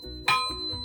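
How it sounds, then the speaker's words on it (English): A hammer strikes a pure iron alloy anvil once, giving a sharp metallic clang that rings on in a sustained high tone, close and clear. "So when you're pounding on this, you're getting that ringing sound every time."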